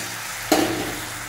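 A fish head drops into hot, fried spice masala in a pan while cooking potol jhal, giving one sudden close sizzle burst that settles into a steady, softer frying hiss.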